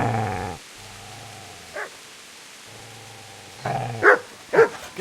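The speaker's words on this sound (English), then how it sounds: "Get away, you mutt!" A dog in the video game Kingdom Come Deliverance growls low and steadily with pauses, then breaks into a few sharp, loud barks near the end.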